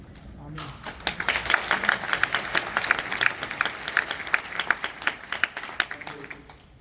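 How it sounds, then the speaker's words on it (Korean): A church congregation applauds during a welcome service in a university hall, the clapping swelling after a quiet start and holding dense and lively, with a few distinct sharp claps near the front and voices mixed in. "박수를 치셔가지고 죄송합니다."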